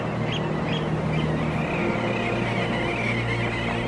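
A flock of Arctic summer birds, geese or ducks, calls overhead in a few faint honking bursts over a steady low wind-like background rumble.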